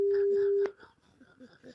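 A telephone ringback tone on a French radio call-in show: one steady, continuous tone holds for under a second and then cuts off, followed by faint voices talking.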